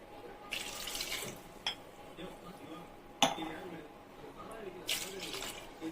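Water poured into a pot holding half a kilo of washed grapes in a home kitchen, soft splashing and trickling in short bursts with a few sharp clinks of the vessel, quiet and close.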